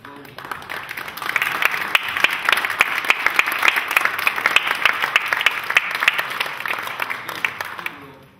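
Concert audience applauds the composer after a cello and piano performance, dense hand clapping swelling in after a second and holding steady and full for several seconds before tapering off at the end.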